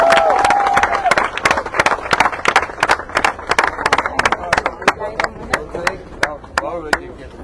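A crowd at a Civil Contract party rally in Nor Nork claps in a loud, steady unison rhythm, many sharp beats close by, opened by a brief tone.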